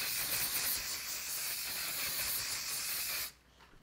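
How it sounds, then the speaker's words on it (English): One Size Until Dawn mattifying waterproof setting spray sprays from an aerosol can in one steady, close hiss that lasts about three seconds and then cuts off abruptly. "this is the One Size Until Dawn Mattifying Waterproof Setting Spray. This one became so viral, and it's one of those aerosols."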